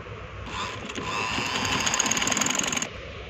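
A sewing machine stitches a lace strip onto a dress hem in a quick whirring run of close needle rattles lasting a couple of seconds, close by and alone over a low background hum.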